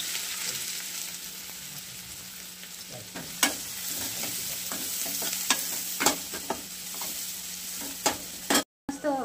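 Chopped onions sautéing in hot oil for a tempering: a continuous close sizzle broken by repeated scrapes and taps of a spatula stirring the pan, with nobody speaking.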